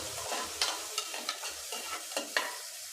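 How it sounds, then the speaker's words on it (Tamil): Onions sizzle and crackle in a hot pan, with several sharp clicks and scrapes of stirring over a steady hiss, fairly close. "இந்த வெங்காயம் கொஞ்சம் வதங்கட்டும்"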